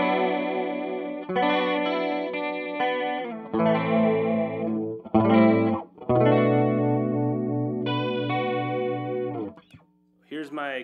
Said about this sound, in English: Here's my clean tone with the chorus.